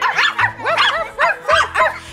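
A voice imitates a dog in a children's song game, giving a quick series of yappy barks and yips in a steady rhythm, close and clear with no other sounds.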